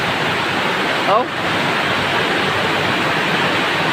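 Heavy rain and rushing floodwater pour in a steady broadband roar throughout, with a brief voice exclamation near the start.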